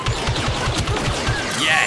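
Rapid blaster gunfire in the Star Wars Battlefront II video game, a steady rhythmic stream of close, punchy shots lasting the whole moment.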